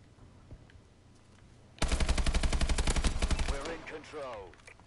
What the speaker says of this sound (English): somebody's getting sniped from somewhere.